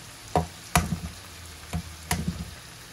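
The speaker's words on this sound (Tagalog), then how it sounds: "ngayon po sa side, lagyan po natin 2 itlog" Two eggs go into a frying pan beside bitter gourd sauté, giving several sharp sizzling bursts in quick succession, each spitting briefly and fading into a low crackle.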